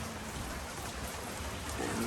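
Rain falling on a wet night, a faint, steady wash of drops and patter with no breaks, heard at a distance.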